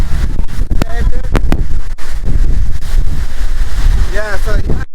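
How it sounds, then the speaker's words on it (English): Strong wind buffets the microphone in a steady, loud roar beside a waterfall in the USA, with people talking over it throughout. "It's so windy."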